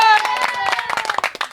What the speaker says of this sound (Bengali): আরো একটু জোরে তালি।